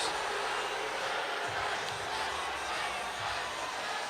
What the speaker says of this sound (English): As you could imagine, the crowd doesn't approve.